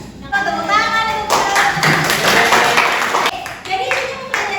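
Brief burst of classroom clapping from a group of students during an Indonesian language lesson, loud and close, with a teacher's voice around it.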